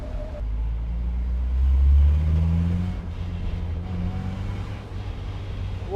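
Porsche 944 engine revving hard while driving down the road, a loud deep rumble that swells in a strong rising pull around the middle and then settles into a steady drone.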